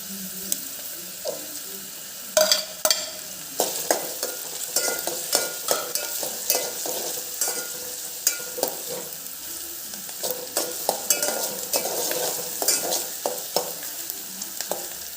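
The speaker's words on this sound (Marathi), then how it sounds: "कांदा थोडा भाजल्यानंतर याच्यामध्ये ठेचलेला लसूण ॲड करणार आहे." Onion fries in a pan with crushed garlic, making a lively sizzle while a utensil stirs and scrapes in irregular taps and clatters close up.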